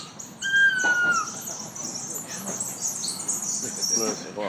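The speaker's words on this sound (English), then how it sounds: "There are also sounds from up in the sky, like the noisy birds always trying to steal their fish." Several birds call and squawk overhead at a moderate distance near dolphins in a park, with high chirps and cries layered over a faint outdoor background.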